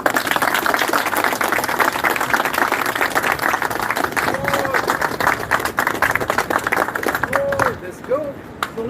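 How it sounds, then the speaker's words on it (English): Sustained applause and clapping from an audience at a camp lesson, dense and steady throughout, with voices calling out over it near the end. "Give me a hand."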